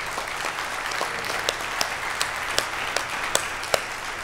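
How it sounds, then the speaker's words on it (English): Audience applause at the Books in Browsers 2013 conference: a steady, even wash of many hands clapping, with a few sharper individual claps standing out, sustained throughout. "Round of applause for you guys too"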